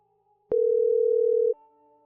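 Telephone dial tone heard while a call is placed, a single loud steady tone lasting about a second, then a fainter tone over a quiet background.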